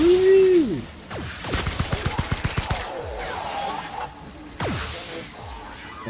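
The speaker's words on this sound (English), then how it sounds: "somebody shooting at me?" Gunfire in the video game The Outer Worlds, with a rapid burst of about ten shots in quick succession amid whooshes, impacts and heavier blasts in a noisy combat scene.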